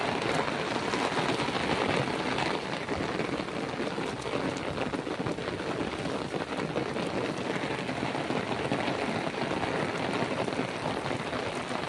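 Heavy rain pours down over a village road with water running across it, a dense, steady, loud rush of falling water with no voices.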